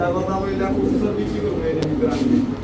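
Silver giribaz high-flyer pigeons coo in low, steady murmurs at close range, overlapped by people talking throughout.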